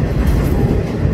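CSX freight train rolling past on the Shoestring line toward Cleveland, Ohio in snow, a steady loud rumble of wagons with dense rhythmic clickety-clack of wheels over rail joints, close and continuous.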